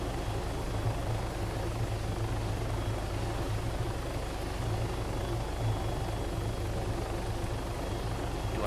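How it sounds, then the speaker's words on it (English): Helicopter in the Arma 3 video game hovering in its own rotor wash and taxiing to a landing spot, giving a constant, close rotor and engine drone with no talk. "give it more power as we settle into our own rotor wash and maintain a hover"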